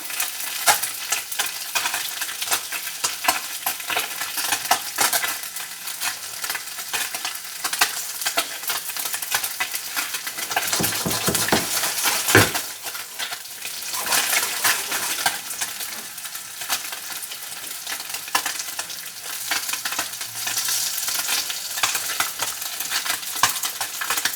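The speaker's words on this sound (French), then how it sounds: "Donc je mets le saumon dans la poêle." Steady, dense sizzling of salmon frying in a pan, loud and continuous throughout, with occasional scraping and stirring sounds.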